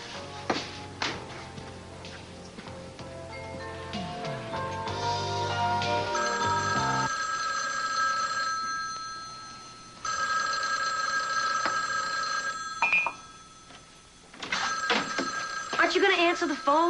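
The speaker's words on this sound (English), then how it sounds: "Aren't you going to answer the phone, Keith?" A telephone rings repeatedly in a domestic drama scene, electronic trills recurring in bursts with pauses between, mixed with music and background sounds.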